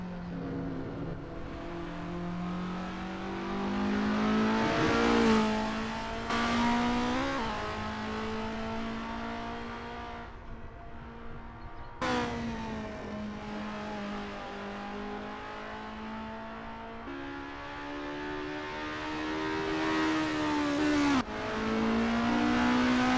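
Race cars in a video game warm up at Zandvoort in an ACF Formula Championship session, engines droning steadily with repeated rising revs and gear-change dips, several cars overlapping at close range throughout.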